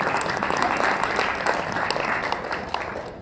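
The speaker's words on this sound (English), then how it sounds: "Give her a round of applause." Warm round of applause from a small audience in a room, brisk continuous clapping throughout, tapering slightly toward the end.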